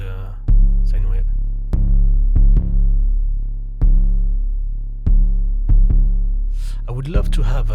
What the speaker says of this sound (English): Distort the sine wave.